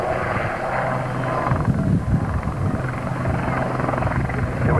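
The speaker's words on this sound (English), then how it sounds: "Aerobatics, of course, is not part of what a service helicopter would normally be designed to do" Military service helicopter doing aerobatics at the Humberside air show, a steady loud rotor roar with some swelling as it manoeuvres, heard continuously without talk.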